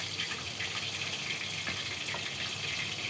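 Water pours into a pot of meat and bottle gourd cooking for lauki gosht, a soft, steady gushing splash that continues evenly throughout at low volume.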